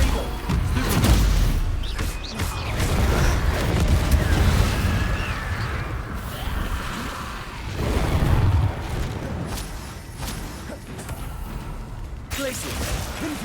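Blasting-spell explosions in Hogwarts Legacy sound as a dense, continuous roar of booms and crashes, with heavier bursts near the start and around the middle, layered with game noise and talk.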